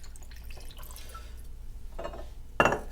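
Peach schnapps trickles and drips into a glass, soft liquid splashes building to a brighter splash near the end, faint and close.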